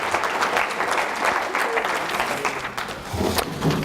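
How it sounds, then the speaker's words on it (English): Audience at a workplace presentation breaking into applause, dense sustained clapping at moderate volume that dips briefly and then swells again, with a few voices mixed in. "give yourselves a round of applause"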